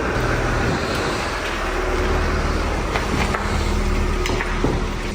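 A Mercedes-Benz S-Class W222 runs and drives out of a garage, giving a steady, fairly loud low rumble of engine and road noise with no pauses.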